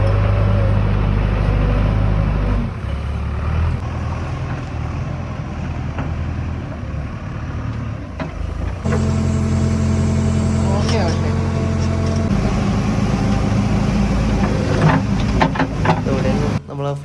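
A backhoe excavator levels ground at a beach resort work site at Kappil, its diesel engine droning loud and close with a steady harmonic hum that shifts as it works, and a voice intermittently heard over it.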